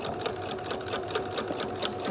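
A Singer sewing machine top stitching a fabric face mask, giving a steady, rapid mechanical stitching chatter throughout, close and continuous, with no talk over it.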